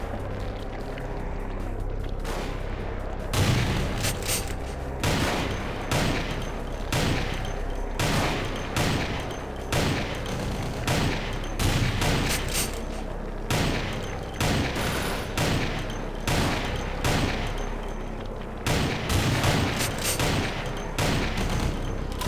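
Enemy gunfire in Vampire: The Masquerade – Bloodlines, Final Nights mod, a long run of rapid, sharp shots bursting out in regular waves with brief gaps, loud and close throughout.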